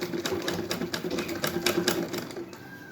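Sewing machine running steadily as it stitches a thick seam on a handmade fabric-and-foam house slipper, a fast rapid clatter of needle strokes continuing throughout, close and moderately loud with no talk.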